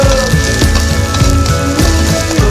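Garlic sautéing with onions in a pan, a steady loud crackling sizzle with spattering pops, no talking over it.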